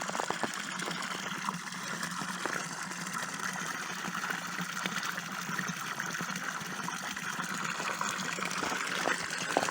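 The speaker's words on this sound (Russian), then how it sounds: "Вот наш родник." Water runs steadily from a spring in a Russian village, a continuous close trickle and gurgle that holds evenly throughout with no voices.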